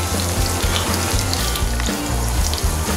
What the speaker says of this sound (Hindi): ये भिंडी जो फ्राई हो रहा है बीच में तेल को घुमाते रहेंगे